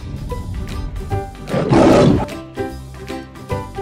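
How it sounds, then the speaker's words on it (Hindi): A lion roars once, a loud rough swelling roar in the middle surrounded by lower grunting and breathy sounds, heard close and without talk. "lion means Sher"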